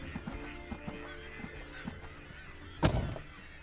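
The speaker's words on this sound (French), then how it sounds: "Probablement des canards pilets et des sarcelles à ailes vertes." Migrating ducks, likely northern pintails and green-winged teal, call in a distant flock during autumn migration, giving a steady stream of honking and quacking with one sharper, louder burst near the end.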